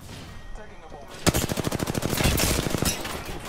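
Rapid automatic gunfire in a summer shooter game starts abruptly after a quiet stretch, a loud, dense burst of closely spaced shots that holds for about two seconds before easing off, with no talking.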